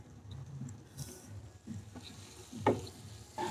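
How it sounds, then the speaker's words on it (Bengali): Chicken pieces frying in a pan with chili powder, garlic paste, ginger paste and cumin paste, stirred steadily: a soft continuous sizzle with scraping stir strokes and a sharper clatter near the end, close and fairly quiet. "এখন আমি এই মাংসটাকে ভালো করে নেড়ে চেড়ে একটু কষিয়ে নেব।"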